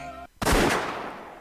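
A single sharp rifle gunshot rings out as a sound effect in a visual novel game, loud and close with a booming attack that decays over about a second, after a brief musical passage cuts to silence.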